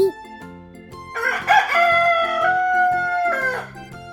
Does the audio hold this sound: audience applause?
no